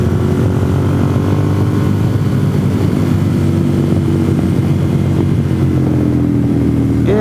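A 2009 Ducati Monster motorcycle engine idling or running steadily nearby, a loud continuous low rumble with a throaty, uneven pulse and no change in pitch throughout, with no voices.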